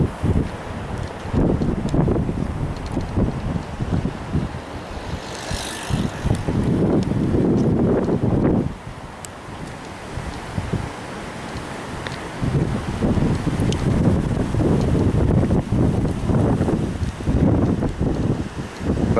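Gusty wind on a spring day along a riverside path lined with cherry blossom trees, roaring in uneven surges with microphone buffeting, heavier in the opening and closing stretches and easing briefly in the middle, with no voices.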